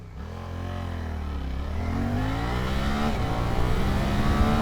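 A 2025 Suzuki GSX-8S motorcycle accelerates hard in full power mode with traction control on, its engine note climbing steadily in pitch through the rev range, loud and close, with a brief dip at a gear change.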